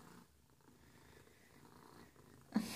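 A spoiled pet cat purrs steadily and softly up close, a low continuous rumble that ends with a brief louder rustle.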